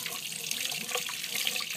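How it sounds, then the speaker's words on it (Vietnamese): Tap water runs steadily while a tobacco pipe bowl is rinsed beneath it, a close, continuous hiss and splash with no pauses. "Vòi nước xả."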